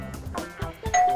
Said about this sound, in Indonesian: Maaf Pak, ada bel.